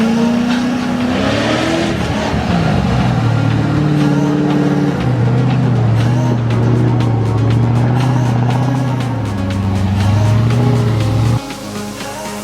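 A V8 Land Rover Discovery 1 working down a muddy 4WD track near Reefton on New Zealand's West Coast, its engine a loud, steady drone that rises and falls in pitch before dropping off at the end.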